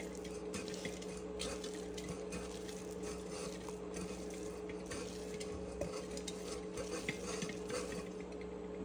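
Cooked puran filling is pressed and mashed with the bottom of a copper pot, soft continuous squishing and scraping with faint clinks over a low steady hum, quiet and close.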